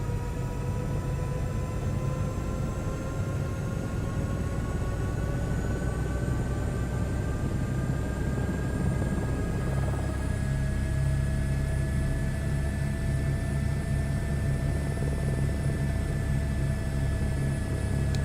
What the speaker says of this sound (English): So when you spin the turbine up to full power, the RPMs go up and they spike and then they settle.